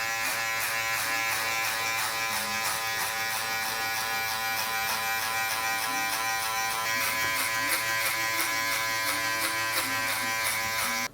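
An electric hair clipper hums steadily at close range during a mid fade haircut, building a base with a 3.5 guard and flicking out toward the bulk, its constant buzz unbroken throughout.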